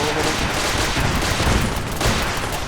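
Rocket blasts and dense gunfire from an attack in Fallout 4, a continuous loud barrage of overlapping shots and bursts with no clear gaps, no voices.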